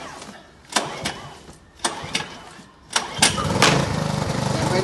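A portable generator is started with the choke on, a series of pull-cord tugs bringing sputtering cranking bursts before the small engine catches and runs steadily near the end.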